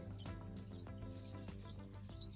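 Nearly 200 canaries in a home aviary chirp and trill continuously, a dense layer of high bird song over a steady low background hum.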